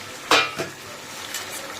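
Fried fish is sautéed with spice paste in a pan: a sharp utensil clatter, a second softer knock, then light scraping over a faint sizzle, with no talking.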